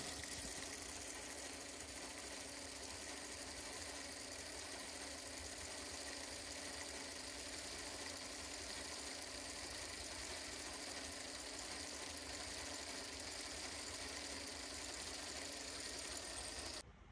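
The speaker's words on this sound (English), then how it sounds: "I think I made the chain a little bit too long and it was whipping a little bit too much" A hoverboard hub motor on a test bench turns an overly long, whipping drive chain, giving a steady, dense whirring and rattling drone that runs unbroken at an even level with no talk, cutting off abruptly at the end.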